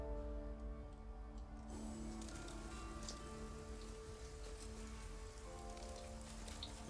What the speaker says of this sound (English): It's raining blood again.